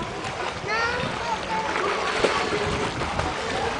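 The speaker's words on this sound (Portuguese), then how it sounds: "Nada pra eu te filmar nadando?" A child swims in a club pool, splashing and sloshing water at close range, with the churn of the water running steadily beneath voices in conversation.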